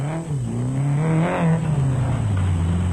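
A Castrol Toyota Hilux 2.7i off-road race truck competing in Class E at the Tarkastad Off Road Race, South Africa, roars close by, its engine note rising and dipping as it revs and accelerates steadily.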